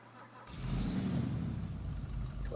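The Burger Shot Stallion in GTA Online cranks and fires up, settling into a loud, rumbling engine hum that holds steady close by for the rest of the moment.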